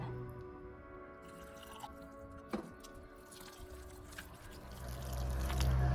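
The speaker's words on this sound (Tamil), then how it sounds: "அதில் கொஞ்சம் வாட்டர் வந்து ஆட் பண்ணிக்கிறேன்" Water added to thick aval adai batter made from flattened rice, a faint trickle and a few soft drips over a low steady background, close and quiet.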